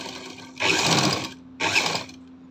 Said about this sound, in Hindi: इस तरह से हमें इस पर सिलाई लगानी है।